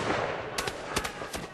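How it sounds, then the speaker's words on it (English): Gunfire from troops firing on a crowd at the Bastille in a dramatized 18th-century scene, several sharp shots cracking out irregularly over a loud, noisy crowd backdrop. "Chaos ensued as the two sides traded potshots"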